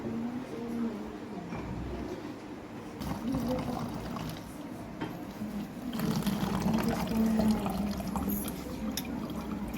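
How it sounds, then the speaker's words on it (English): Water poured during a simple school science experiment, a soft continuous trickling and filling sound that swells in places, fairly faint against light background noise. "We can fill water."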